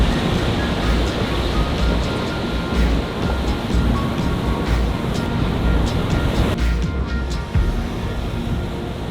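Ocean swell and waves rolling across the flats as the tide pushes in, a continuous loud wash of surf with a few sharper splashes and wind buffeting, no voices.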